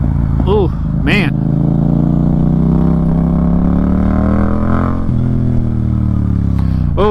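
A 2024 Yamaha MT-07 motorcycle drones steadily with a rising, shifting engine tone, loud and close, while a person talks over it.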